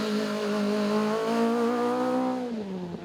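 A Vauxhall Corsa rally car drives a special stage, its engine note sustained and rising as it passes, then falling off in pitch as it moves away near the end.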